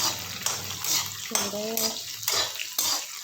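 Raw mango chunks stirred while they roast in a pan, a spoon scraping and clinking against the metal with a soft sizzle, steady and close, with a brief tonal hum in the middle.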